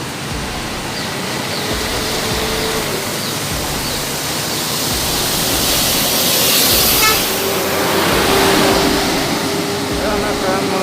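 A Rapin intercity bus from Jambi rolls into Pekanbaru bus terminal on a Sunday morning, a loud, broad engine and road rumble swelling up close with a faint horn-like tone, while someone talks over it.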